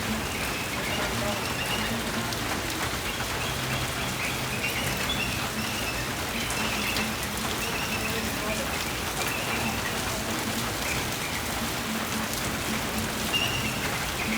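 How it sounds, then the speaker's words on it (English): Heavy rain pours steadily onto surfaces at Dollywood, a dense continuous hiss of drops with faint birdsong in the background. "It's actually been pouring down the past few minutes"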